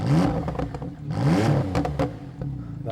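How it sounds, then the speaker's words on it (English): A Porsche 991 Carrera GTS engine with sports exhaust switched on revs and burbles loudly through the exhaust in short bursts, with crackling and popping between throttle blips. "switch on sports exhaust, and you can hear that"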